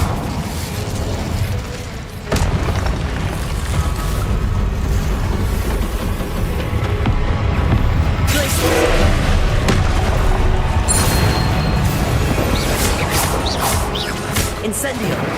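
Repeated fiery spell blasts in Hogwarts Legacy, Incendio bursts mixed with other combat spells, loud booming impacts and crackling flares over a dense battle din, with a voice calling out spell names.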